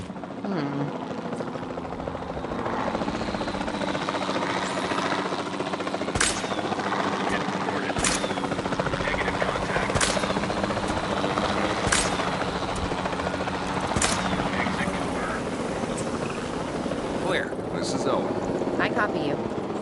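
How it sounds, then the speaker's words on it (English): Capture team helicopter in Jurassic World Evolution 2, a continuous close rotor roar with steady whooshing thumps throughout, loud, with a voice talking over it. "Then the sensible thing is to take a capture team helicopter. You can trank it from the air."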